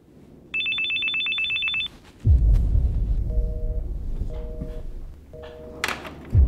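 A telephone rings with a rapid electronic trill, then short repeated ring tones follow amid a low rumbling background.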